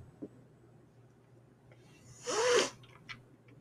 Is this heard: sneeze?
yes